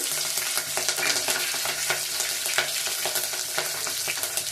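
Peanuts and green chillies frying in a pan for avarekalu upma, a dense continuous sizzle with spatters and stirring clicks, steady and close.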